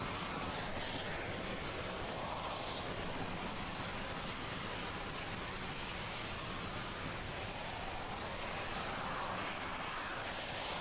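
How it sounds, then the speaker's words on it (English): During the CRS-14 Dragon resupply launch, the first-stage burn of a SpaceX Falcon 9 rocket makes a steady, broadband roar with a constant level throughout, like distant jet noise. "This first stage burn will last for about another minute and 10 seconds."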